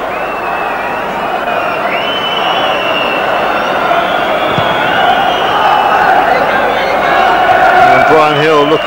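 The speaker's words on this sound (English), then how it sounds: "Spurs fans behind Ian Walker's goal give a mighty cheer of relief" Spurs supporters behind the goal roar in a sustained crowd cheer at a 1994 Premier League match against Sheffield Wednesday, a dense, steady wall of stadium noise holding throughout, swelling slightly toward the end.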